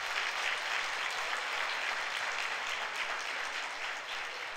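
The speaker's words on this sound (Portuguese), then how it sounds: "dê um aplauso ao Senhor Jesus" A church congregation applauds, sustained even clapping from many hands filling the room for several seconds, with no voices rising above it.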